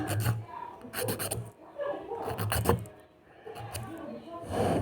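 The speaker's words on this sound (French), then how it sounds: "Et après, on lime." Close rasping strokes of a file worked against a small plastic Playmobil figure, in repeated bursts of scraping with short pauses, and a voice speaking quietly between the strokes.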